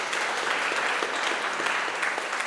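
A short burst of steady audience applause at a talk on populism and polarization, a dense, even patter of many hands with no voices.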